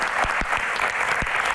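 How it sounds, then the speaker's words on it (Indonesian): An audience at a Q&A event for a music release claps in brief scattered applause, moderately loud and close, with no talk over it. "Tepuk tangan."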